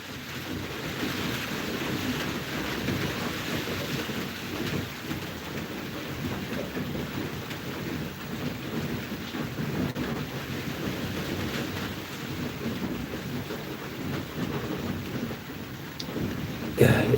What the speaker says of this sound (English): If maybe the noise is too loud, then we'll wait for the rains to stop